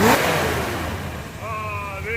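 A 1972 Chevy Corvette engine idling then revving, a close mid-pitched rumble that swells and eases, with someone speaking over it.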